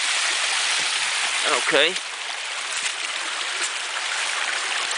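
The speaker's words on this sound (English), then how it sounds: "I'm walking right in the middle of the creek" Creek water rushes and splashes steadily around a person wading through the middle of a stream near cascading waterfalls, a continuous close wash with a brief burst of splashing, and a voice speaks once.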